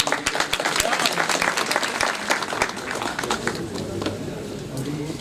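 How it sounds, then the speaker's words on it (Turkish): Applause fills the hall at a cultural association congress in Sakarya, Turkey, a dense crowd clapping steadily for several seconds, with voices faintly audible beneath it. "Her iki başkanımıza da sizlerden kuvvetli bir alkış istiyoruz."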